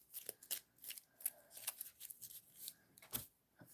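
Cards from a Harry Potter trading card game deck are riffled and shuffled by hand close up. The soft, rapid flicking comes in repeated bursts with short pauses between them.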